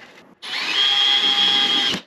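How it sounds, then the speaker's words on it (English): A power drill whines up to a high steady pitch for about a second and a half while drilling holes for RZR Pro XP fender flares, then winds down; close and loud. "Very careful not to over drill these holes."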